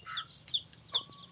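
Small chickens cluck softly at feeding time, giving a few short, faint calls spread across a quiet background.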